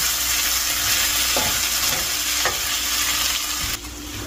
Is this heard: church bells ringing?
no